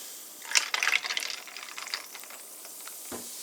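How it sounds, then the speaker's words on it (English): Perrier Forever Strawberry sparkling water is poured into a glass of ice nearby, a brief splashing burst that settles into a soft, crackling hiss. "and you pour it into the glass"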